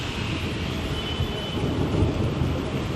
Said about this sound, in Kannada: ಮೈಸೂರು ಜಿಲ್ಲೆಯಲ್ಲಿ ಸಿಡಿಲು ಸಹಿತ ಭಾರೀ ಮಳೆಯಾಗಿದೆ.